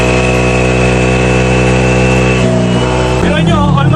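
A car engine running with its coolant drained, loud and close with a steady mechanical hum and harmonic whine that shifts pitch partway through, roughening near the end.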